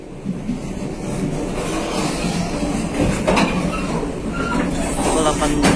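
A passenger train on the Kuala Stabas line in Indonesia rumbles steadily along the rails with a continuous loud roar, faint rhythmic clatter and hard jolts; a voice talks beneath the noise.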